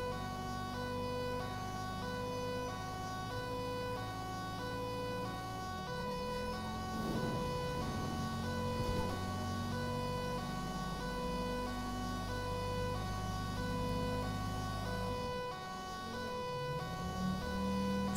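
In GTA 5, an ambulance siren wails steadily on a highway, loud and constant for the whole stretch, with engine and road noise underneath and a few passing vehicle whooshes.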